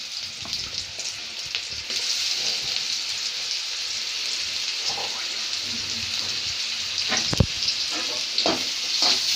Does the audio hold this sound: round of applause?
no